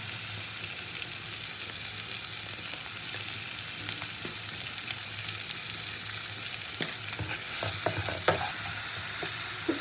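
Chopped onion frying in a pan with salt and turmeric for a fish curry, giving a steady close sizzle throughout, with occasional scrapes and clicks of a spatula stirring, and no talk.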